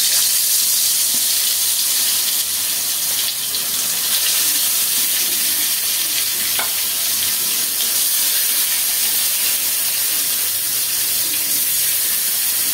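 Fish marinated with turmeric, salt and chili fries in a pan, giving a steady, loud hiss and sizzle that runs continuously throughout without talk.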